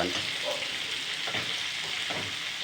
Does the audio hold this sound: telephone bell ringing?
no